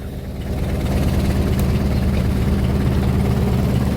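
A heavy Hino FC six-wheel dump truck diesel engine idles steadily with a deep, even rumble and low vibration, starting slightly quieter then holding constant. No talking.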